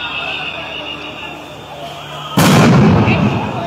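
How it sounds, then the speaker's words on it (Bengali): A police sound grenade goes off at a street protest where water cannon is in use, one loud sudden blast followed by sustained roaring noise, with voices in the background. "এখানে কিন্তু জলকামান এবং সাউন্ড গ্রেনেড নিক্ষেপ করা হচ্ছে"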